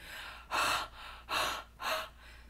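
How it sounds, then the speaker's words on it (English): Three loud, breathy huffs in a row onto a rubber stamp, each a long forceful exhale close to the mic, with quieter breathing in between. "I'm sure you guys can hear me. Me and my asthmatic breathing."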